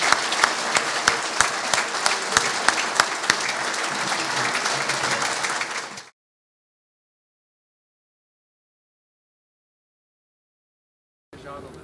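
Audience applause at an Almelo municipal award ceremony, a dense burst of clapping from a hall of people lasting about six seconds, then cutting to silence before a brief return of sound at the very end.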